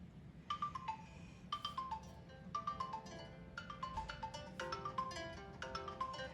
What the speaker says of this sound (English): So we're just gonna let that keep ringing, and then I will call her back.